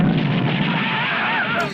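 A bomb blast in an action film scene sets off a loud, sustained roar of explosive rumble and debris noise that fills the clip, gradually tapering toward the end.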